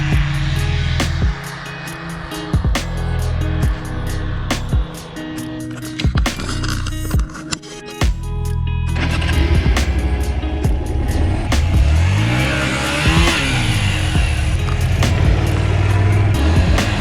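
A 2001 Honda Varadero 125 motorcycle engine runs close by, stalling and restarting with choppy bursts before settling into a steady throb with a rising, revving sweep near the end.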